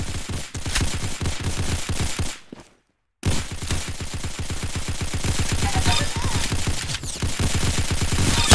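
Dense automatic gunfire from the Arsenal shooter game, rapid steady bursts that fill the mix, broken by a brief silent gap before the firing resumes and continues loud to the end.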